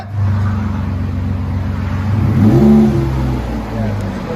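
A 2016 Ford F-150 with a 3.5L EcoBoost V6 and Borla Pro XS dual exhaust revs with a deep, loud rumble, rising in one swell before settling back to idle, heard close up.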